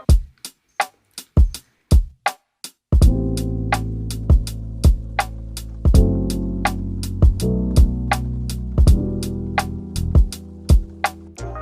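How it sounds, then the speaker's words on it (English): A dry, basic drum loop with a steady beat of crisp hits and snare cracks, joined by a deep booming kick and low tones after a few seconds. "So here's a basic drum loop with no effects."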